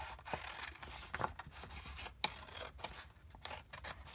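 Scissors snipping through paper while cutting box flaps for a paper craft gift holder, a series of quiet, close crisp cuts and rustles at an irregular pace.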